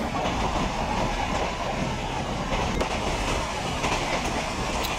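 A passing train on the opposite track in the MSTS railway simulator, a continuous rolling rumble with faint clickety-clack beats, heard steadily at moderate loudness.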